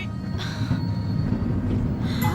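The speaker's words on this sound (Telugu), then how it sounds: "ట్రైన్ మూవ్ అవుతుంది" A passenger train begins to pull away from a station. It gives a steady low rumble with a thin metallic wheel squeal rising over it, with no voices.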